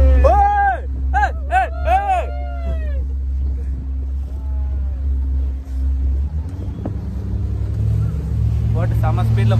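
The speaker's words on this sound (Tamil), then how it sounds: "போட் செம ஸ்பீட்ல போகுது" A speedboat engine drones loudly on water as the boat runs fast, a steady low roar under excited talk and high whooping voices, then the engine note rises and intensifies toward the end.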